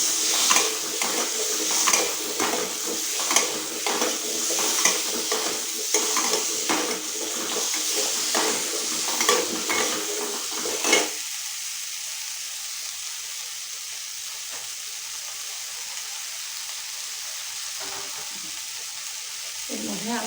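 Green mango with sugar being stirred in a pan: about ten seconds of rhythmic scraping and clinking of a spoon against the pan, then quieter low simmering noise.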